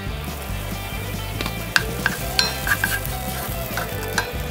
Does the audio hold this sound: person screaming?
no